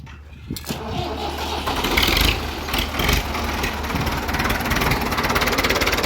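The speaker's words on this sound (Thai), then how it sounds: "เดี๋ยวโยกให้เบิ้งก่อน" A Ford 6600 tractor engine in a field starts up and revs, its loud, steady rumble swelling briefly around the middle before settling back to a rough idle, heard up close with no voices.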